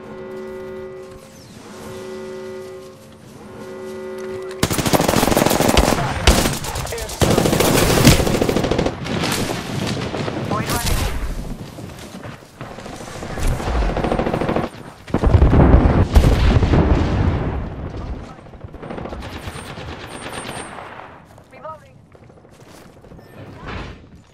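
Rapid bursts of automatic gunfire mixed with heavier blasts in a PC shooter game, loud and close. The volleys come in waves after a quieter opening with game music.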